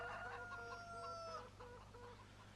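Farm chickens clucking in a coop, several repeated short clucks and a drawn-out rooster-like call, fairly close but quiet, with no talk.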